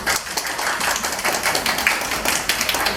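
A large seminar audience applauding together, producing dense, continuous clapping that holds steady at an even level for a few seconds.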